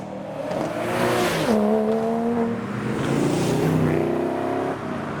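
Custom cars, including a Porsche Cayman, Audi and TVR, pass along a road shut down for a car meet; engines rev and drone steadily with rising and falling pitch as vehicles go by, fairly close and loud, with no talk.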